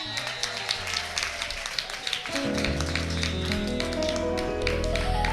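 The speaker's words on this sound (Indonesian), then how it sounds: "Sekali lagi kita kasih tepuk tangan" A church congregation at a Sunday service claps in a steady stream of overlapping applause, a sustained musical tone entering midway and continuing beneath the clapping.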